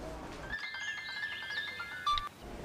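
A mobile phone ringing for a call during a domestic drama scene, a steady electronic ringtone pattern playing at moderate level with a brief louder burst near the end, no talk over it.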